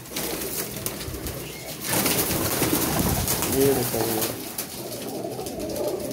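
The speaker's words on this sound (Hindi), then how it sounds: "ये हमारे कबूतर हैं" Pigeons coo softly and steadily in a home loft, including a pair that have begun nesting and birds with newly hatched chicks, while someone talks over them throughout.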